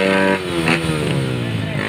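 A Raider 150 motorcycle engine with a stock carburettor revs loudly and close by for a couple of seconds, its pitch shifting as it accelerates, with a voice shouting over it.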